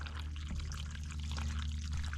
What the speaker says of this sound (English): I'll go over and show you the water coming out as well, how clear that is.